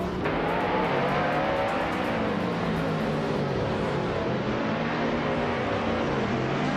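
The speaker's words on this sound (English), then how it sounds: "the race is off at Lossitring DTM track, and leading the pack in first place is Velocitor 14, in a classic 2008 Porsche RS Spider Evo" A 2008 Porsche RS Spider Evo and rival race cars speeding around the Lausitzring DTM track in a racing game, a loud steady engine roar with rising whining revs, held close and continuous throughout.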